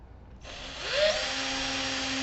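A power drill whirs to life and revs up, holding a steady high-pitched whine close by, with no talking.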